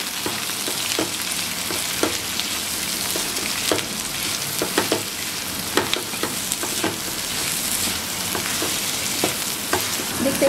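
Onion fries with garlic and chili in hot oil for a Bengali hilsa shutki bhorta, giving a loud, steady sizzle broken by frequent scraping and stirring clicks from a utensil against the pan.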